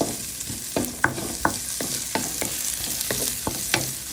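Tomatoes and onions sautéing in a pan, a crackling sizzle under repeated rhythmic scrapes and taps of a spatula against the pan, close up.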